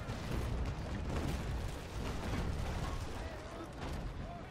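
Sailing-ship cannons in the Naval Action game boom in rolling, overlapping bursts that merge into a continuous dense rumble at moderate loudness.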